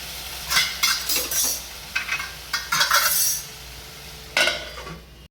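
Moong dal with sugar and tomatoes being mixed in a pan, with a spoon scraping and clinking against the metal in short irregular bursts between quiet pauses.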